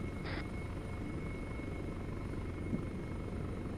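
A helicopter during an airsoft-style field operation drones steadily at a distance, a low continuous rotor and engine rumble with a faint high whine running the whole way through, broken by one brief tone burst early on.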